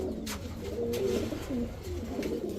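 Kaldam high-flyer Giribaz pigeons coo softly and repeatedly at close range, with low murmuring calls and a few faint wing or movement sounds. No one speaks.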